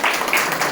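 Crowd applause at a one-day camp gathering in Dehu, Pune: a short, dense burst of many hands clapping, loud and even, with no voices over it.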